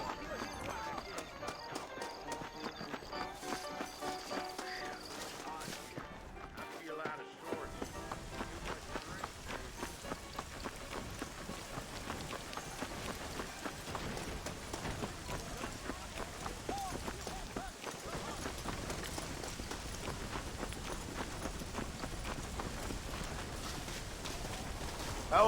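Horses pull a stagecoach in the Red Dead Redemption game, their hooves clip-clopping in a steady run on the road for the whole stretch. The wheels rumble along beneath, with soft background sounds and brief voices.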